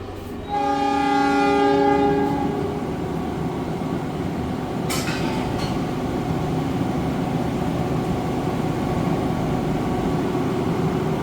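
A passenger train rolls past along the seashore, its horn blaring in a long sustained blast at the start, then a steady loud rumble of wheels and carriages continuing without voices.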